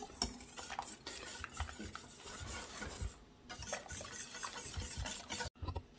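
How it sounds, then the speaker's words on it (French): Egg yolks, whole eggs and a pinch of salt being mixed in a bowl, giving a quick, continuous run of close scraping and clinking strokes with a brief pause near the end, no voices. "En même temps les 3 œufs et la pincée de sel. On va venir mélanger comme ceci."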